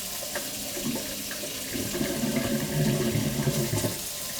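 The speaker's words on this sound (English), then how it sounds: "turn the tap to a moderate flow and adjust the temperature of the water" A tap runs at moderate flow into a sink for hand washing, giving a steady close splashing rush with slight shifts as the stream strikes the basin.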